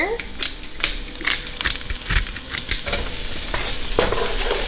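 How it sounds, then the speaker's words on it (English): Onion frying in a hot pan, a loud continuous sizzle with clattering stirs and scrapes of a utensil throughout. "So I'm gonna throw in my onion."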